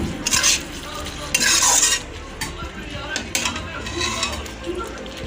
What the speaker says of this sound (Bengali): সামান্য জল দিয়েছি একটুখানি জল দিয়ে এটাকে একটু দু মিনিট ফুটিয়ে নেব